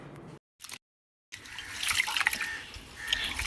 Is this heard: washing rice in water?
yes